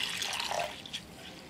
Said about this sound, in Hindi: उससे पहले जो इस पे स्टार्च लगा होता है उसके लिए हम इसको 2 या 3 पानी से अच्छे से वॉश कर लेंगे।